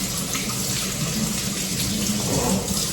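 Cold tap water runs steadily over a metal strainer in a kitchen sink, a continuous close splashing hiss with no talk.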